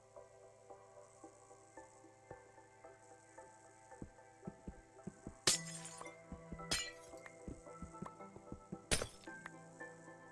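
Glass blocks break in the Minecraft video game with three sharp, bright shattering crashes spread apart, set over quiet game ambience filled with soft clicks and block taps.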